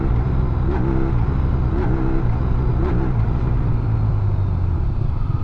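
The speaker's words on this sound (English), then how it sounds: "That is clunk in the drivetrain." A Honda VFR 1200 F shaft-drive motorcycle drones steadily at about 3,000 RPM in second gear as the throttle is eased off, with a few soft knocks from drivetrain clunk under the continuous engine note.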